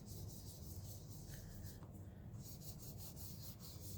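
A gloved hand rubs mica powder around the edges of an acrylic pour in soft, rhythmic strokes, a faint close brushing and scratching repeated steadily.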